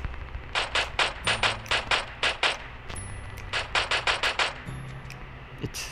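Pistol gunfire in PUBG Mobile cracks out in quick bursts of sharp shots, several rapid groups separated by short pauses, loud and close.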